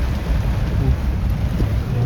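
Heavy rain with gusting wind, a constant low rumbling roar and hiss that never lets up.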